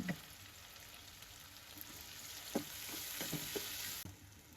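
Onion with salt and turmeric frying in a pan, a steady close sizzle broken by several spoon scrapes and taps as it is stirred.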